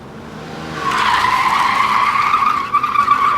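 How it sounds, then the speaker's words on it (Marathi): Tires squeal in a loud, sustained screech as a car skids for a couple of seconds on the Varandha Ghat mountain road, close by, with no voices. "अचानक गाडीचा वेग मंदावला आणि ती एका ठिकाणी थांबली"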